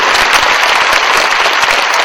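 Congregation at a church revival meeting in Seoul giving warm applause to the guest pastor, dense steady clapping from a large crowd filling the whole moment, loud and sustained with no talk over it.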